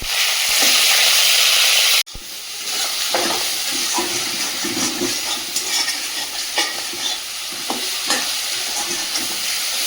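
Masala sizzles loudly in hot oil in a pan, a dense steady hiss broken by a brief cut, then continuing with scraping stirring strokes and spattering crackles close up.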